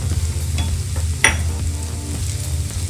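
Cashews and poppy seeds frying in a pan for a masala, a steady close sizzle with a single sharp stirring scrape partway through, no voices.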